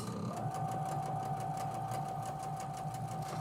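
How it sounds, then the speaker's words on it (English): A sewing machine stitching the many small seams of a star-pattern quilt block, running close at a fast, even pulse with a constant motor whine and no pauses. "So just trying to make sure that my machine doesn't eat up those seams as we're going through here."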